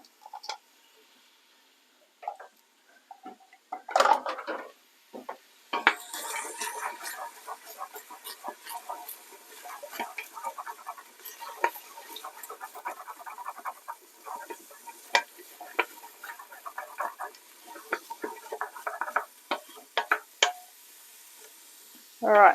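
Onions sizzling in a hot pan for lamb and vegetable biryani, a steady crackle with sharp ticks and spits from pushing them around, stretching on with short pauses.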